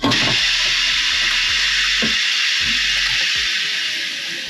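KATOOL KT-B700 tire changer clamping an aluminum wheel rim from the outside, a strong hiss of pneumatic air over repeated mechanical clunks and ratcheting clicks, close and loud.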